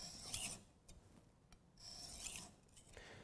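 Kitchen knife scraped along the full length of a sharpening stone in repeated rasping strokes, close and quiet, with short pauses between passes.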